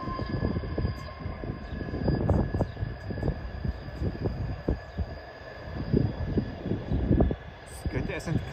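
A Bernina railway train rolls past with rumbling, clattering wheels and irregular thumps that rise and fall over several seconds, with a faint high tone above.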